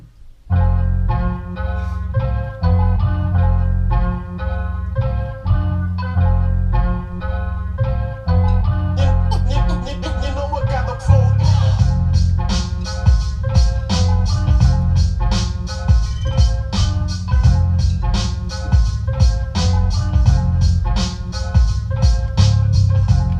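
Mixdown of four layered samples played back from an Akai MPC1000, a loud, continuous, beat-driven blend with steady rhythmic hits under sustained tonal parts, growing busier partway through, with no talking.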